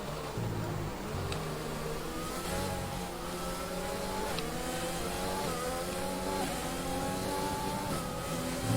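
Formula 1 car engine in the F1 2020 racing game, a high-pitched droning whine rising and shifting through gears as the car accelerates out of a corner, steady and loud with no speech.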